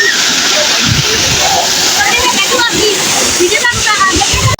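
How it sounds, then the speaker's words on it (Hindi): Water rushing at a waterfall on the route from Naran to Babusar Top, a constant splashing roar close by, with people talking loudly over it. "पानी पानी।"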